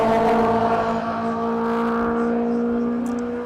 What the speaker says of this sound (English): There was car noise, very loud.